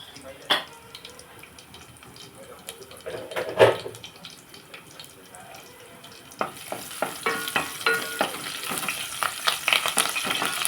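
Crushed garlic dropped into hot oil in a pan for a brinjal fry, a dense crackling sizzle that starts at about six seconds and builds, with scattered clinks and spoon sounds before it.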